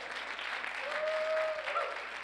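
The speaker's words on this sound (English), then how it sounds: "you can clap for that because that was sweet" An audience at a healing meeting breaks into steady applause, a continuous wash of clapping with a faint tonal whine running through it.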